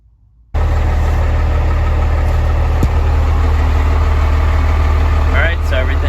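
A Cummins 12V diesel in a Ford F800 truck fires up after a brief silence and settles into a steady, loud, low idle with a constant throbbing rumble, close by. A short click sounds partway through.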